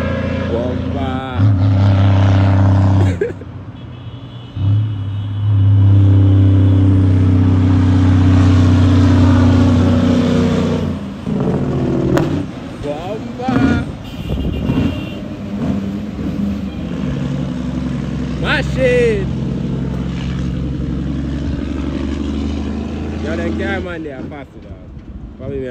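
A truck with a Detroit 12.7 diesel engine labors uphill on a steep rural road in St Thomas, Jamaica, its engine droning loud and steady with rising and falling revs, near and dominant while people talk and shout over it.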